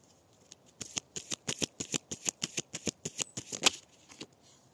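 Tarot cards riffled and cut in a quick run of about twenty crisp, close flicks, steady and evenly spaced, ending with a few softer taps, no voices.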